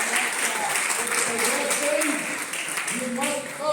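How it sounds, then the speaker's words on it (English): An audience at a neighborhood civic association's candidates event gives a dense, continuous burst of applause, with voices calling out and murmuring through the clapping. "A big round of applause."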